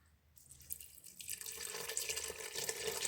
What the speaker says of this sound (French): je vais mettre tout ça à cuire et je vais ajouter 2 litres d'eau